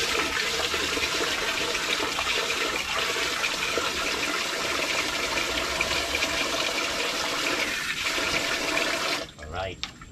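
Water runs in a steady, loud, close rush during household chores for about nine seconds, then cuts off abruptly with a brief gurgle.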